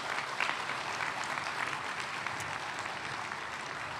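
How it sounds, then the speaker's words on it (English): Steady round of applause from an audience at an outdoor groundbreaking ceremony for a port on-dock rail facility, a dense even wash of clapping lasting throughout at moderate level. "Let's give them another big, huge round of applause."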